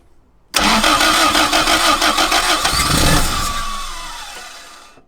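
A Mk1 Toyota MR2's twin-cam 16-valve engine cranks briefly, then catches and runs loud and close, revving unevenly before settling and fading slightly toward idle.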